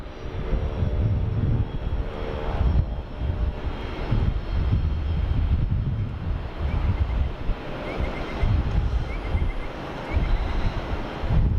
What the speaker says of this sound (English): The Pilatus PC-24 taxiing out now.